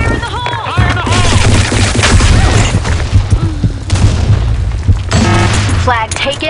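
Grenade blasts in the online shooter game Blackshot, loud booming explosions and crashing bursts amid gunfire, with game voice lines and radio calls over the mix.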